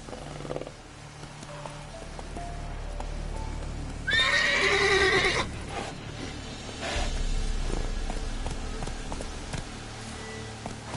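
Roach, a horse in a PS4 video game, gives a clear, loud whinny midway, and hoofbeats clop steadily underneath through the whole stretch.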